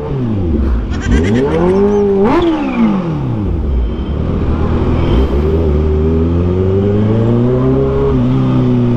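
Kawasaki H2 carbon supercharged motorcycle engine revving hard, pitch sweeping up and down repeatedly with sharp rises and sudden drops as it bounces off the rev limiter, loud and close at a bike meet.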